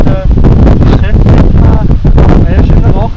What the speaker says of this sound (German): ist gerade so schön windig